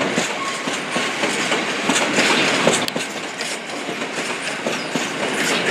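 Freight train of empty wagons rolling past Willesden Junction, a steady loud rumble of wheels with rhythmic clickety-clack over rail joints and a brief metallic squeal, passing close throughout.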